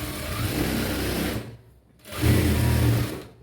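A sewing machine runs in two bursts as it stitches blouse cloth, a steady mechanical whir stopping for a brief pause, then resuming slightly louder and closer.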